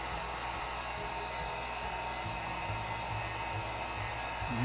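A heat gun blows steadily over freshly poured acrylic paint on canvas, a constant close whooshing roar that holds level throughout with no talk.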